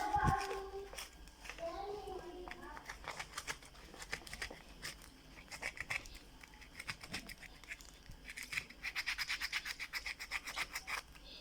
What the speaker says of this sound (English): So use your rough sandpaper.